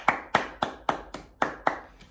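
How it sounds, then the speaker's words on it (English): Rhythmic clapping at a school assembly celebrating learning: about eight sharp, evenly spaced claps in steady unison, close and fairly crisp, with no talk over them. "Let's give them all a round of applause."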